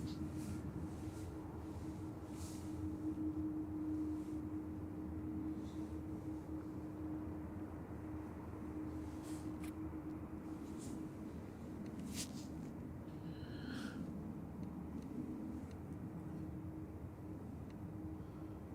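Airliner rolling and taxiing on the runway at Manchester Airport, a steady distant jet engine drone with a persistent low hum, faint and continuous without talk.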